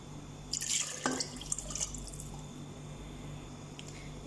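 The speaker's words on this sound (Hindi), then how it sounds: "ये कप से हम इसमें 3 कप पानी ऐड करेंगे।" Water is poured from a cup into a pot for keema khichdi, a brief close splash and drip near the start that fades into a quiet kitchen background, with no talking.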